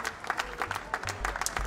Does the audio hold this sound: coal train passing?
no